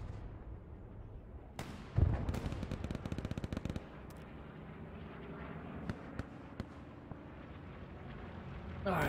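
Machine gun fire in the WWII shooter Hell Let Loose on Hill 400, a rapid burst of shots rattling for about two seconds, followed by scattered single distant cracks.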